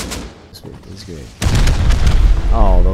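Rocket explosions in the video game Rust, a sudden heavy boom followed by dense rumbling blasts that stay loud to the end, with someone talking before and after the impact.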